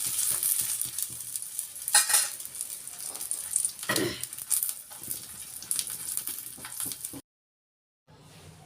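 Dosa made with gram flour and vegetables fries in oil on a stovetop pan, a close continuous sizzle with stirring scrapes and a few louder crackles, cutting to near silence at the end.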